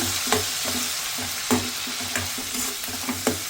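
Small chopped chicken pieces sizzle steadily in a hot pan for chicken spaghetti, with irregular scrapes and knocks of a spoon stirring them through, close and continuous with no talking.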